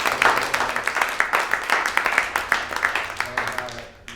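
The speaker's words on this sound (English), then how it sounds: "Let's have another round of applause for Yohei." An audience at a small evening talk claps in a fast, even patter of many hands, loud and close, before the applause fades out at the end.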